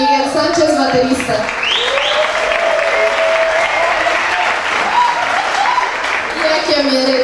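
A concert audience at an album launch applauds steadily for several seconds, a dense close wash of clapping with some voices over it.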